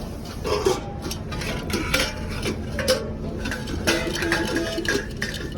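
Metal plates and bowls being washed in a truck, giving repeated light clinks and clatters of dishes bumping together at close range over a steady background hum.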